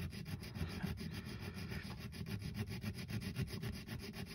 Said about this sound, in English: And we just gently start sawing away.